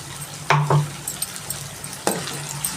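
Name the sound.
stirring spices into mutton brinjal curry in a pan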